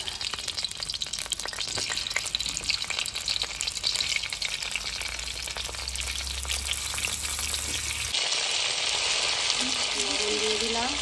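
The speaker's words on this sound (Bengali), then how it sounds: "এবার আলুগুলো আমি ভেজে নিচ্ছি।" Potatoes fry in hot oil with a steady, loud sizzle and crackle throughout, shifting partway through as the pan is disturbed, with no talking.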